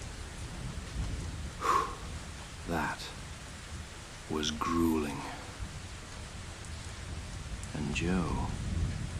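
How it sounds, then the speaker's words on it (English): Steady heavy rain hiss runs throughout as ambience for a tabletop role-playing session, with people talking over it for most of the stretch. "The rain still pours"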